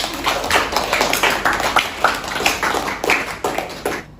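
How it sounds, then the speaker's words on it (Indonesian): Classroom applause for a student team in a statistics lesson, a burst of clapping from a small group that holds steady for about four seconds before stopping abruptly. "beri applause lagi untuk tim Bapak"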